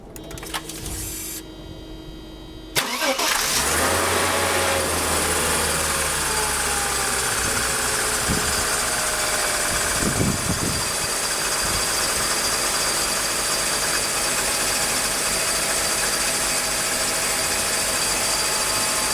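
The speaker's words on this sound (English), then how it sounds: "the car started right up. Runs pretty smooth" Mercedes M104 engine cranking with the starter, catching and settling into a steady, smooth idle that runs continuously and close by, no talking over it.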